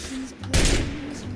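Gunfire from Gunner raiders in the video game Fallout 4, a loud close burst of rapid shots that stays only briefly on top of a low, steady game ambience.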